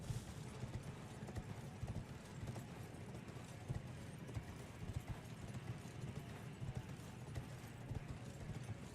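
Horse hooves galloping in the video game Elden Ring, a steady rapid clip-clop rhythm running throughout at moderate loudness with a dense game soundscape behind it.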